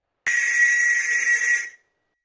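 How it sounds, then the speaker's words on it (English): A survival whistle from an emergency backpack kit gives one loud, steady, shrill blast lasting about a second and a half, up close and alone. "This is probably a whistle."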